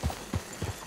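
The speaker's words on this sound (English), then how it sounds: "I have to fast travel on my horse." Horse hooves clip-clopping at a steady gait in the video game Red Dead Redemption 2, three to four dull low thuds in under a second, close by and moderately loud over a faint hum.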